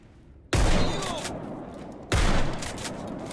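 Two loud shotgun blasts in the video game S.T.A.L.K.E.R., about a second and a half apart, each a sharp boom with a long decaying tail, set against faint background noise.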